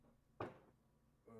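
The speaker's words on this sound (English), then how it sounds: "Who's slamming on the door?" A single hard knock against a door, close and brief, followed by quiet and a faint second bump, with no talking.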